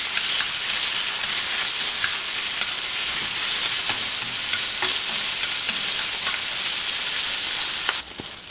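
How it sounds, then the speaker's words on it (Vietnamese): Marinated shrimp stir-fry in a hot pan with annatto oil, a dense, loud sizzle running steadily throughout, with faint scrapes of the spatula under the hiss. "Ướp phần tôm và chúng ta xào cái phần tôm này cho chín."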